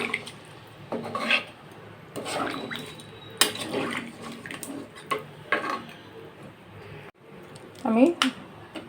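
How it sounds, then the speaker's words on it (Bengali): Water is added to a pot of braised chicken, with clattering of utensils against the pot, a brief splash and bubbling, while a person talks over the kitchen sounds. "এখন আমি পরিমাণ মতো পানি দিয়ে দেবো"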